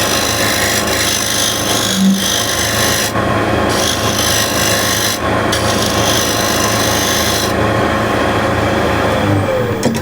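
A hand scraper shaves a wood surface and the rebate to fine powder with a very light touch. It makes loud, close, continuous rasping strokes with brief pauses between passes, and no one speaks.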